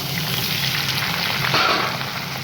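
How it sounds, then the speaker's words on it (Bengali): Potatoes sizzle in hot oil with a loud, steady crackle close by, swelling briefly as they are stirred. "আলুগুলোকে একটু ভাজা ভাজা করব"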